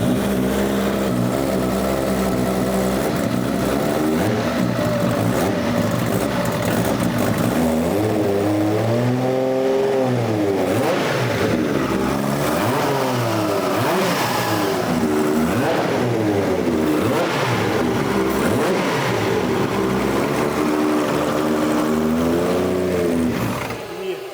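A Subaru BRZ Formula Drift car's engine revs hard and repeatedly during a clutch test, loud and close, the pitch climbing and falling in sweeping waves over a constant idle.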